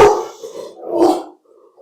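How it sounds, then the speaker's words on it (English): Dogs bark and growl nearby in a short burst of two loud barks followed by a fainter yip, with no talking over them. "got the dogs in the background"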